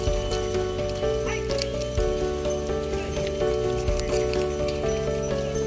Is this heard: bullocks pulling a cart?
yes